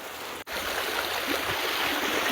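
Steady rushing water from a flowing stream fills the clip, loud and close, with no voices.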